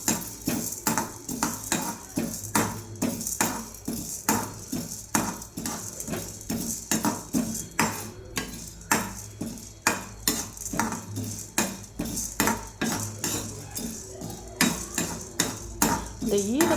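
Chana dal roasting in a pan while a metal spoon scrapes and clinks against it in a steady repeated rhythm, close and fairly loud over a faint background sizzle.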